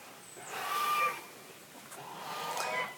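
A farmyard goose honks and squawks in two harsh, rising bursts a couple of seconds apart. It sounds fairly close against a quiet outdoor background.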